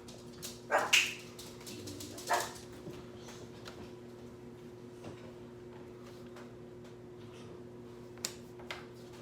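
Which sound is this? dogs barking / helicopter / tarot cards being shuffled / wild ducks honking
dogs barking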